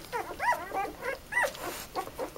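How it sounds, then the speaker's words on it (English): A litter of eight newborn puppies, only days old, born to Bathsheba and Thor, make high, thin squeals and whimpers in a rapid run of short cries, close by and fairly soft. "here are Bathsheba and Thor's puppies"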